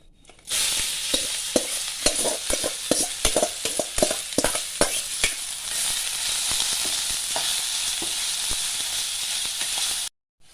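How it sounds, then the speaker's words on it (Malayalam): Chopped ridge gourd, a medium-sized one, sautéed in hot oil with stirring: a steady loud sizzle and hiss with scraping stir strokes, especially dense early on, then a continuous frying crackle until it stops abruptly. "ഒരു മീഡിയം സൈസ് പീച്ചിങ്ങ നറുക്കി വെച്ചിരിക്കുന്നതാക്കും. അത് ഒന്ന് വതക്കിക്കലാം."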